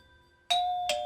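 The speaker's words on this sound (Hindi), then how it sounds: "डोरबेल।" A doorbell chimes two bright tones in quick succession, a clear ding-dong in an otherwise quiet room.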